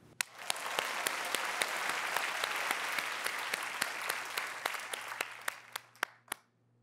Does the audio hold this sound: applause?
yes